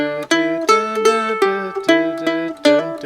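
The closing lick of the fiddle tune Jerusalem Ridge, played with a hammer-on: about seven clear, ringing notes in a quick, even phrase, close and alone with no talking.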